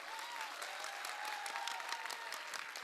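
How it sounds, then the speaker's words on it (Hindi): Loud, vigorous clapping from a conference audience at a university event in Dehradun, a thick continuous burst of many hands with sharp individual claps poking through, sustained across the moment without speech. "और अगर आपको बहुत अच्छा लगा तो और जोर से ताली बजाइए।"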